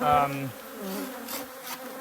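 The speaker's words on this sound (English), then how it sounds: "Nice bees." Honey bees buzz steadily inside a hive on a French bee farm, a dense, close drone with a brief higher whine at the start that settles into an even hum.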